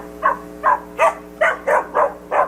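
A played recording of a dog barking: seven evenly spaced, fairly loud barks in a steady rhythm over a faint constant hum.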